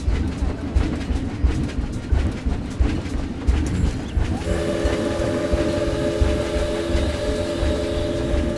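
Train in the zoo-building video game Planet Zoo, a steady rolling rumble with a sustained whistle-like tone entering midway and holding to the end, fairly loud with no talk.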